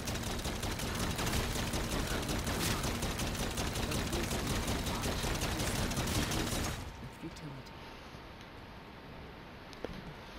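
Rapid automatic gunfire from a weapon in Call of Duty Zombies on the Shaolin Shuffle map in co-op play, a dense continuous volley for about seven seconds that cuts off abruptly into quieter game ambience with faint clicks.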